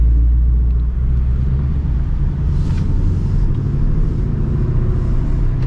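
A 2024 Ford Mustang GT (S650) with a manual MT82 gearbox idles with a deep, steady low rumble, loud and close, on a drizzly day.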